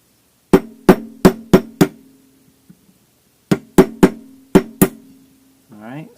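Gentle hammer taps on a pin in an airsoft Steyr AUG barrel: two sharp, close series of five metallic strikes each, evenly spaced, separated by a brief pause, followed by a short burst of speech.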